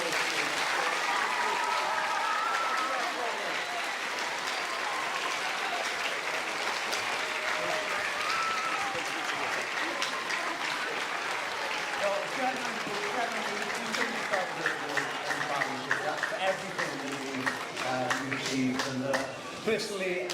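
Audience applause at a cycling event honouring track rider Laura Kenny, sustained steady clapping for about twenty seconds with crowd murmur, fairly even in loudness throughout.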